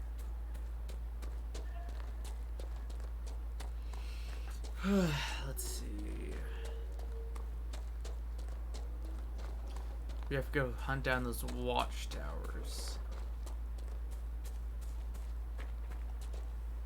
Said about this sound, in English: I might ride the horse around everywhere